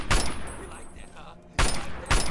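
A volley of gunfire aimed at raiders' torsos in Fallout 3, with several sharp, loud shots opening the passage and two more close bursts following after a brief lull filled with quieter game sounds.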